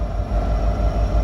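A Norfolk Southern freight train rumbles near a signal in Bluefield, West Virginia, giving a steady low roar with rhythmic thumps, alone without talk.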